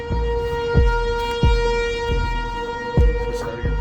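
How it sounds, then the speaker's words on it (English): A tornado warning siren wails from a distance in a sustained, steady tone, with a few intermittent knocks and clanks of car work on a 2022 Dodge Challenger 1320 Scat Pack nearby. "Hear the tornado siren?"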